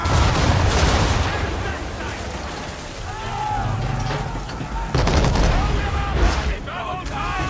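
Ship cannons firing in an Assassin's Creed III naval battle: a dense, continuous barrage of heavy booms and crackling blasts over rushing sea and wind, with shouting voices mixed into the din.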